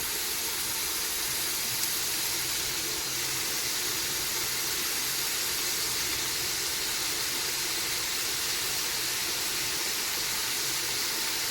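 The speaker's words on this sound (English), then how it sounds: "I'm going to brown it up and get a little bit of flavor to that oil" Meat browning in hot oil for Louisiana red beans and rice gives a steady, dense sizzle that holds at an even level from start to finish, with no voices over it.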